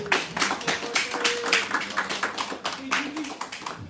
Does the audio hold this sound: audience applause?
yes